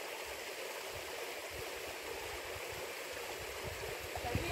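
A mountain river in a steep, narrow valley flows with a steady, broad rushing wash of water, constant and fairly distant, with no voices over it.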